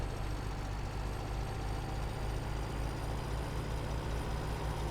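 A truck in Farming Simulator 17 idles with a steady, low diesel rumble, constant and moderately quiet throughout with no speech.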